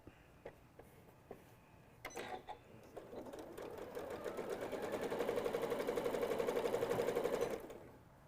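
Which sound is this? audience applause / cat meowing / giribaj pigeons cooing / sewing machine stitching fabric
sewing machine stitching fabric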